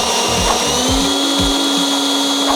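An Excel 18V cordless leaf blower at turbo speed, a loud, steady motor whine with airy rushing, close up and running continuously, with a few low knocks underneath.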